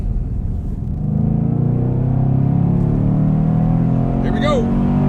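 Loud, steady engine roar from a 2018 Chevrolet Camaro SS accelerating hard through a 60 to 130 mph run, holding a dense sustained drone from start to finish.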